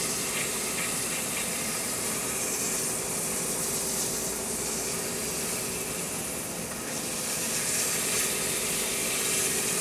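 A wood lathe runs in a workshop, spinning a cocobolo piece, with a steady, close whirring drone and broad hiss that stays even and unbroken throughout.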